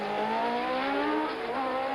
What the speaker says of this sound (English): Look how stable the Ferrari is under braking.